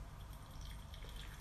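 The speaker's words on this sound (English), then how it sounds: "I'm just going to run some hot water through my filter all around the edges." Hot water poured around the edges of a paper coffee filter in an Origami dripper and draining through, a soft, continuous close trickle and drip with no talk.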